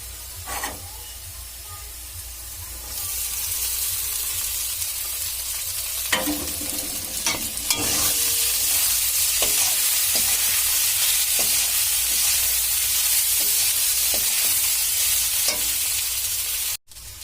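Steady sizzling of flattened rice frying in a pan with fried potatoes, with repeated scraping stirs and a louder burst of frying partway through.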